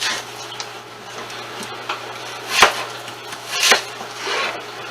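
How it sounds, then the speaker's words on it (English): A knife slices through an apple on a board in a home kitchen, giving two crisp, close cuts a second apart amid lighter scraping, over a low steady hum. "And then just make these slices."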